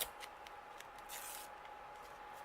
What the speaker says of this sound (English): Cut it with my trimmer